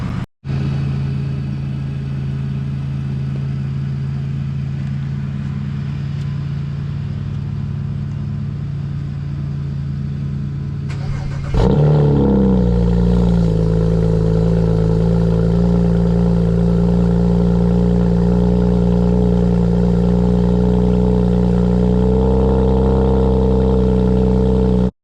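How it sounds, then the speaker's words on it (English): A BMW 335i with the N54 engine and catless downpipes runs loud and close, first at a steady idle. Partway through it shifts abruptly into a higher, throatier drone with a brief revving surge, then holds a strong steady tone. "So yeah, let's go ahead and start it up."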